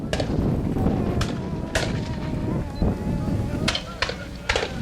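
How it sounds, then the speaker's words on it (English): Cannon fire at a War of 1812 battle re-enactment on the original Chippawa battlefield, several sharp distant booms at irregular intervals over a steady outdoor rumble, with someone talking throughout. "in the field where the artillery's firing, there's going to be an infantry battle that Napoleon would have recognized"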